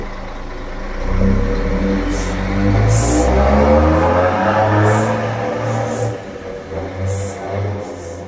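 A heavy truck's engine runs close by, with a deep, rumbling idle that rises into revs and then settles. Sharp hissing bursts come through now and then.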